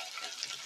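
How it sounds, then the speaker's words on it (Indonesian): Tofu fries in hot oil in a home kitchen, giving a steady, dense sizzle that is close and even, with no talk over it. "Selanjutnya saya goreng teman-teman seperti ini."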